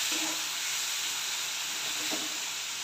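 Tomato, chilli and spice mixture with turmeric and a pinch of sugar sizzling steadily in a pan, with a soft continuous hiss and faint scraping as it is stirred.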